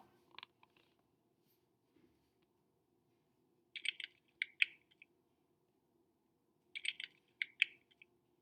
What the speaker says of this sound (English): I'm going to type in westward expansion